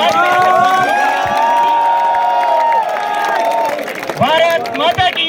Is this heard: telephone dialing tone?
no